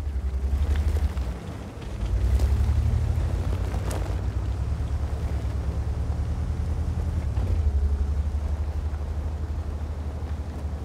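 Artillery shells burst in the tank game World of Tanks: deep booming impacts land around a Soviet Object 257 heavy tank, with a heavy low rumble sustained beneath sharp crashes, loud and close with no voices.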